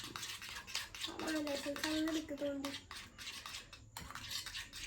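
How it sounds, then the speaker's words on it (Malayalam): A spoon stirs a mixture with vanilla essence in a bowl, giving close, irregular scraping and clinking against the bowl, with a brief ringing tone partway through and faint background noise. "ഇതിനെ നമുക്ക് നല്ലോണം മിക്സ് ചെയ്തെടുക്കാം"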